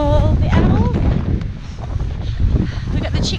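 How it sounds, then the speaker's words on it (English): Strong wind gusts across an outdoor homestead, buffeting loudly and continuously, with a brief voice sound near the start. "It's really, really windy out here"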